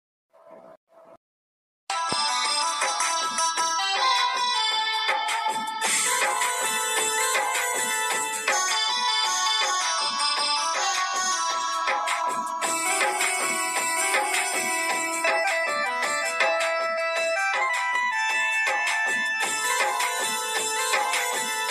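A phone call goes unanswered while a musical ringback tune plays loud and unbroken for about twenty seconds, after a brief faint blip of sound at the start.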